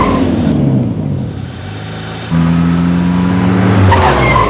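A car pulls away fast in a film scene: a loud engine surge with tire noise swells midway and holds steady, with no voices over it.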